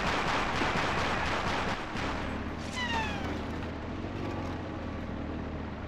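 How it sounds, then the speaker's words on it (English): Machine-gun fire in the WWII game Battlefield Forgotten Hope, heard as sustained rattling bursts within a dense, noisy battle din, with a whistling shell-like sweep partway through. "Bloody MG fire."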